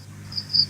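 Crickets bought as fish feed, loose and hiding in gaps indoors, give two short, high chirping bursts over a quiet low hum, fairly faint and close by.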